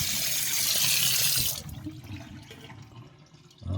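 Tap water gushes strongly into a sink as a Thermomix TM6 bowl is rinsed clean of caramel, loud and steady for about a second and a half, then drops to a softer trickle and splashing before surging again at the end.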